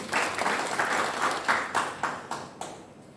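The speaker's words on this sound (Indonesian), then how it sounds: "Tepuk tangan buat Tuhan Yesus." A church congregation applauds together, a dense wash of clapping with rhythmic surges that slowly fades, heard at moderate distance and fairly quiet.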